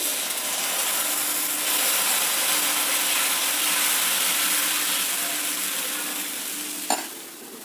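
Ragi finger millet dosa batter sizzles on a pan over a low flame, a loud, steady close frying hiss that continues throughout, with a brief clink near the end.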